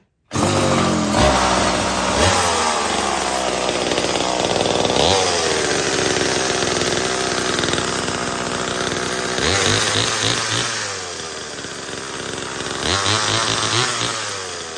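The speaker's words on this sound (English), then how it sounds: "So I got this old 1970 something, between 70 and 75 chainsaw" A vintage 1970s Homelite chainsaw engine runs loudly and close, revving up and down repeatedly with a rough, buzzing two-stroke snarl.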